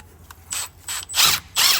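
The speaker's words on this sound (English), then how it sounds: "now I'm gonna use my drill brush." A drill-mounted brush scrubs a CV axle ring near a wheel speed sensor on a BMW, giving several short, close whirring bursts that grow louder toward the end, with no talking.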